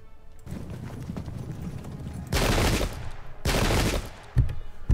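Two loud musket volleys from yeomanry ring out in a Pike and Shot Campaigns battle at Vinegar Hill during the 1798 Irish Rebellion, each a dense crackling burst lasting about a second, over ongoing battlefield noise and horse hooves.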